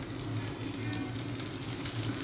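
Red Sea fish frying in hot oil with a little lemon added, a steady close sizzle and crackle running continuously without talk.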